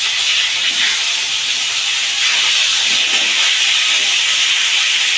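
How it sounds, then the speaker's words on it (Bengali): A fish head fries in hot oil for Bengali muri ghonto, giving a steady, close, bright sizzling hiss that holds evenly throughout with no talking. "ভালো করে ভেজে নেবো।"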